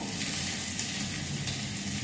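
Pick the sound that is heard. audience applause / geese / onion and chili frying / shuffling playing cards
onion and chili frying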